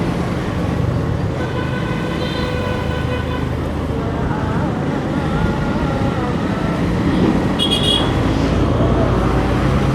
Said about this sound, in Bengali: আমরা আছি রূপগঞ্জের ভিতরে, আর এদিকে প্রচুর পরিমাণ জাম।